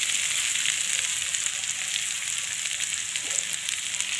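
Potatoes fry with masala in a pan, giving an even, continuous hiss of sizzling oil, close and steady throughout with no talking or stirring strokes standing out.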